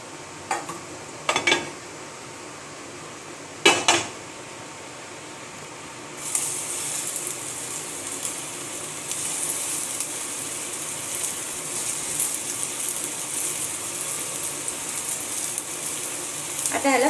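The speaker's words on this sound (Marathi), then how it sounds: "आता या पॅनमध्ये परत थोडंसं तेल टाकून हे राहिलेले कटलेट आपण फ्राय करून घेऊया" Beetroot cutlets frying in a little oil in a pan, a steady, close sizzle that starts abruptly after a few sharp clinks and then crackles continuously to the end.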